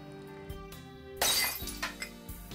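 A drinking glass falls and shatters in a sudden bright crash, with scattered tinkling fragments after it. It plays over a soft musical background.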